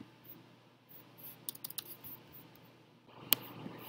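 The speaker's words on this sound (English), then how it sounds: "I'm clicking too quickly here." A computer mouse clicks in quick bursts, a cluster of sharp close taps followed by a louder single click, all quiet against a near-silent room.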